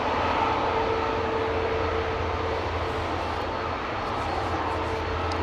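A Cathay Pacific Airbus A350-1000 at Amsterdam Schiphol spools up its engines before takeoff, a steady, distant broadband roar with a faint whine held evenly throughout.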